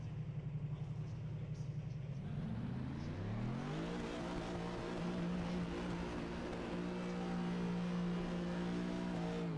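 A racing-sim car engine idles steadily, then revs up with a rising whine to a high sustained pitch that holds near its peak, loud and close, with a voice speaking underneath.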